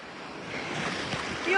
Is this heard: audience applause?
no